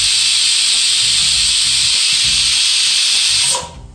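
A pressure cooker whistle, loud and hissing steadily for about three and a half seconds before cutting off abruptly, with a low rumble underneath.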